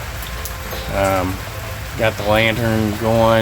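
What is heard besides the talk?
rain falling on a tin roof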